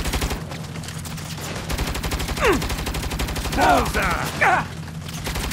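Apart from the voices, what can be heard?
turret gunfire in the video game Saints Row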